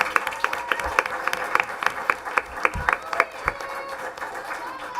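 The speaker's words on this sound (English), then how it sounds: "Yeah, round of applause." Audience at a school board meeting breaks into applause with distinct individual claps in an irregular patter, moderately loud and steady for several seconds before thinning out.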